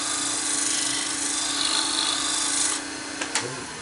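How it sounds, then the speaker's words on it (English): A hand scraper pushed across wood gives a continuous close rasping, shaving scrape lasting almost three seconds, followed by a couple of short light scuffs as it lifts off the surface. "you bend it a little bit and push it across the wood"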